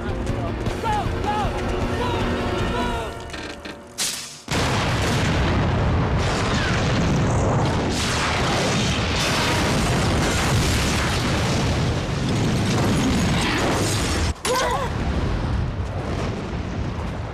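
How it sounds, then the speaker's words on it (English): A deafening tank explosion hits a few seconds in, then a sustained roaring rumble continues for a long stretch with another sharp burst later, under shouting. "That tank is gonna blow!"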